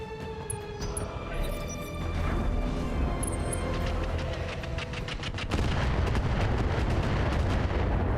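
Missiles slam into a mech in the BattleTech video game, a dense roar of rumbling explosive impacts that thickens into a continuous heavy barrage about halfway through.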